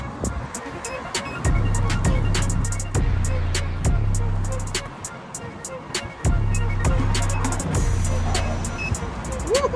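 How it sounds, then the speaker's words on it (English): An electric unicycle ridden at Amped Up Electric gives a low motor hum that rises and falls in bursts, with sharp clicks and knocks from the wheel and the road mixed in. "I'm at Amped Up Electric, trying this electric unicycle, but different than what I'm used to riding"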